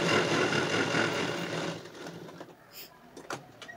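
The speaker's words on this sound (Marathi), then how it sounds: "त्याला डबल शिलाई मारून घ्यायची." A sewing machine double-stitches the sleeve seam of a three-piece princess-cut blouse, a fast even whirring hum that runs loudly then slows and fades, followed by faint handling clicks.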